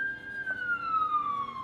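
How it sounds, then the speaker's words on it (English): An emergency vehicle siren passes outside, a steady high wail slowly falling in pitch as it goes by, heard from a distance over a low background hum. "Sounds like there's a siren going by."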